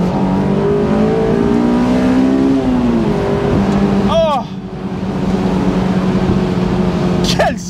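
A Honda S2000's naturally aspirated engine revs high toward 8000 rpm, a loud rising harmonic wail that drops briefly and climbs again, with a short exclaimed voice over it.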